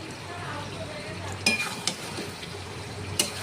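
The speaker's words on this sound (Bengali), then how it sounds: "চলো এখন কষানো চলছে মটনটা।" Mutton sizzling as it is sautéed in a pan, a soft steady fry with a few sharp clinks of a spatula or utensil against the pan.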